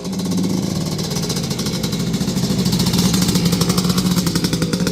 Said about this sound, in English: he's running through the various throttle positions so that I can hear the throttle positions